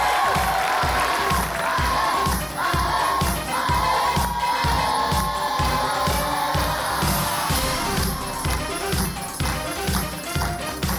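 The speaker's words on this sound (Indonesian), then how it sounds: "tepuk tangan juga untuk MPK" Studio audience on a Family 100 Indonesia game show set, with loud sustained cheering and applause filling the whole stretch over a steady rhythmic music beat.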